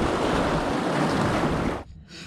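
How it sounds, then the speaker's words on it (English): Big ocean swell crashes on the shore in a loud, broad roaring wash that fills two seconds, then cuts out abruptly to quiet, with wind buffeting the microphone. "Big swell comes in, splashes me out to sea."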